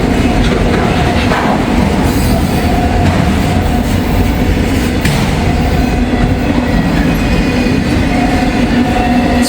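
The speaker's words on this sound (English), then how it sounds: "listening to those couplers rub against each other like that, making all that noise" Loud, continuous grinding and scraping of railcar couplers as a train passes close by, with clanking rail noise and occasional squeals, no talking.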